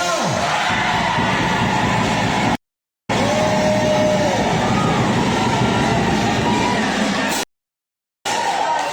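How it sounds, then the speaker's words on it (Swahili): Church congregation at a pulpit donation event in Kiminini breaking into loud, dense applause that roars continuously, cut by two abrupt silent gaps. "Kwa hivyo nitakaposema Dawa nataka nisikie makofi ya mvua"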